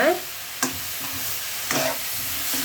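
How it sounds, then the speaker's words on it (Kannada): Coconut laddu mixture fries in a pan with a steady soft sizzle, while a spoon scrapes and stirs through it in a couple of short strokes, close and moderately quiet, with no voices. "ಇನ್ನೂ ಸ್ವಲ್ಪ ಫ್ರೈ ಮಾಡ್ಕೊಳ್ಬೇಕು ಇದನ್ನು, ಎಣ್ಣೆ ಬಿಡೋ ಥರ"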